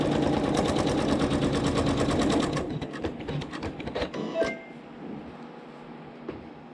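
An embroidery machine stitches a flower leaf for a quilt block with thread A in the needle, giving a fast, steady mechanical rattle up close that stops abruptly partway through, followed by a few clicks and faint handling noises.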